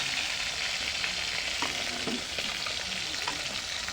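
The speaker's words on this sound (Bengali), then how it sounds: "ভাজা হয়ে গেল আমার পাঙ্কাশ মাছ।" Pangas fish frying in a pan makes a constant, close sizzle with a few soft scrapes of stirring, no voices.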